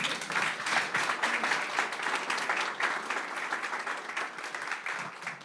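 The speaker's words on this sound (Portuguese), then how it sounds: "Aplauda o Senhor porque Ele é digno." A church congregation applauds steadily, a dense, sustained wash of many hands clapping at close range that holds its level throughout, with no voices standing out.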